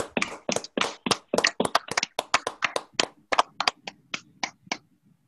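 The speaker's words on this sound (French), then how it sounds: "Merci d'ouvrir au micro pour un chaleureux applaudissement" A small group claps in a quick, irregular patter of distinct hand claps that thins out and fades toward the end.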